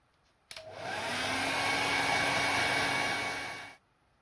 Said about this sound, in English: I've got a hairdryer here, it might not be hot enough.